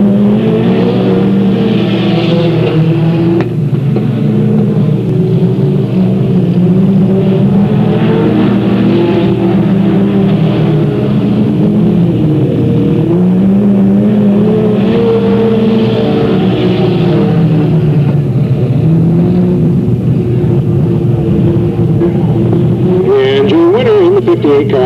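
Race cars on the final lap at Delta Speedway in 1996 give a loud, continuous engine roar that rises and falls as the cars pass, with no break.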